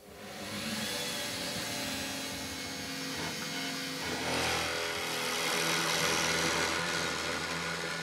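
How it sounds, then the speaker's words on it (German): A drill press bores holes into the foot piece of a Swiss stone pine bed frame in a woodworking shop. A steady, loud whirring drone hums without pause, rising slightly partway through. "An der Ständerbohrmaschine bohrt Tobias Liebert nun Löcher in das Fußteil."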